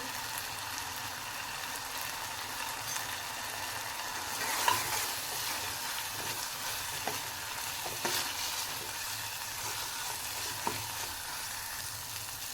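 Turmeric and green chillies frying in hot oil in a pan, a steady close hiss and crackle throughout with a few sharper pops and spatters, no talking.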